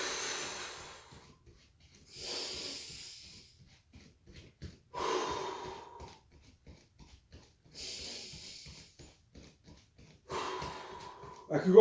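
Heavy, rhythmic breathing during a meditative Zen HIIT jog, with five loud, close exhales or snorts at regular intervals of about two and a half seconds and quieter huffs between them.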